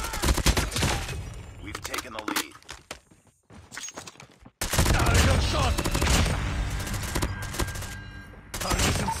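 Gunfire fills a Call of Duty Mobile multiplayer match in rapid automatic bursts, loud and close. The shooting breaks off briefly, then comes back hard, with game voice callouts mixed in.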